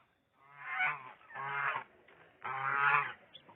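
A goose honks three times in loud, nasal bursts close by, with short pauses between calls, outdoors at a country property during a weekend bonfire gathering.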